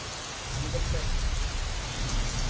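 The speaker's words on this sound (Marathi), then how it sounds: "रत्नागिरी, गुहागरमध्ये मागील तासाभरात पावसाचा कहर बघायला मिळालाय" Heavy monsoon rain pours down in Ratnagiri's Guhagar area on the Konkan coast, a loud, dense and continuous roar of rainfall that swells slightly partway through, with no voices heard.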